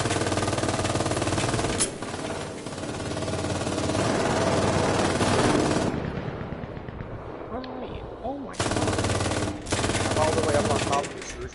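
Automatic gunfire in the battle royale game Cuisine Royale, loud and sustained in long bursts with a short pause near the end before firing resumes.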